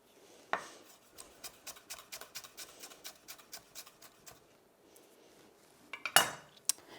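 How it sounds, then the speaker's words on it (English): A knife dices ingredients for a Sichuan beef tartare on a cutting board, a rapid, even series of close taps that pauses briefly before a few louder knocks and clinks. "So you can dice that up."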